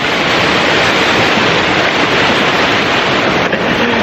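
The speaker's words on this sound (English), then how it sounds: "we have reached near the waterfall" Bhupar waterfall in Canacona, South Goa, roars as a dense, steady wash of falling water, loud and close throughout, with no voices.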